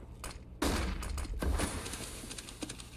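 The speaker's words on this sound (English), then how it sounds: "Throwing flashbang." A flashbang grenade goes off in a video game: a sharp loud burst after a short lead-in, then a bright hissing ring that slowly fades, with a second thump partway through.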